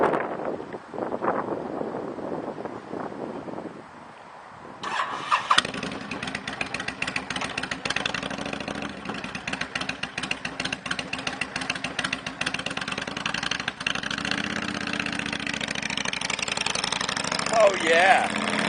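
A 2005 Honda VTX1300C V-twin heavyweight cruiser motorcycle cranks and fires up after a few seconds of talk, then settles into a steady, throbbing idle close by, with a brief rev near the end.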